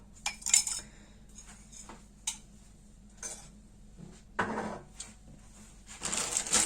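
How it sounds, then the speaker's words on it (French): Egg, vanilla sugar and sugar are mixed in a bowl, giving scattered clinks and scraping taps of a utensil against the bowl at an uneven pace, with no talk. "je commence par mélanger l'œuf, le sucre vanillé et le sucre"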